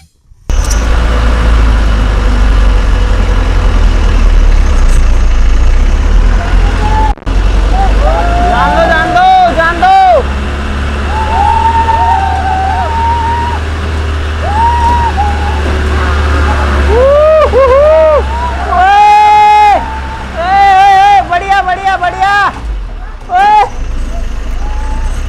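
A bus drives through mud into water, its deep engine rumble loud and continuous, with swishing and splashing, while several people talk and shout over it.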